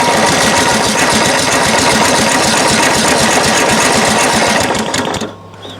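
A Craftsman LT1000 lawn tractor's small engine runs steadily with a fast, buzzy rhythmic chatter, loud and close, before cutting off abruptly near the end.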